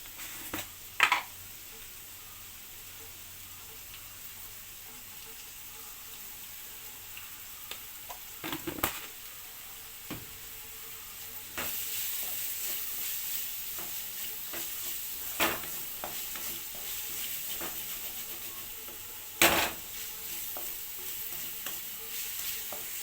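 Onions sautéing with salt in a pan for a pork curry, a steady soft sizzle with occasional louder stirring scrapes and clicks, close and alone with no talking.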